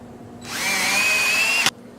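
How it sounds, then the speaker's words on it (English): A power drill drives a screw into a wooden drawer in one short burst, its motor whine rising and holding steady before stopping abruptly with a sharp click as the screw seats, close and loud. "now I can finish out fastening the rest of the screws"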